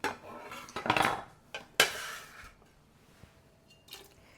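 Bite-sized pieces dropping into a pot of Brunswick stew, with a few clinks of a utensil against the pot and soft wet plops in quick bursts, close and fairly quiet, no talking.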